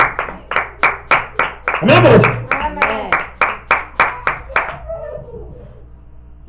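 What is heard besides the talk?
church congregation clapping hands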